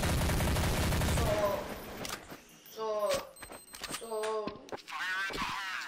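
Rapid bursts of gunfire from the Counter-Strike video game open the scene, followed by scattered shots and clicks as several people talk and shout over the gameplay.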